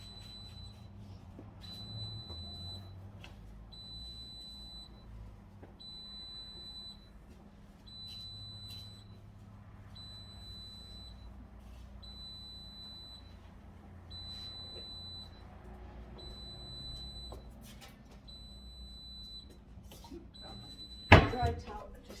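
A kitchen appliance beeps repeatedly after liquid has spilled and pooled under a pot, giving short, evenly spaced high beeps in a steady pattern over quiet room noise, with a sharp clatter near the end.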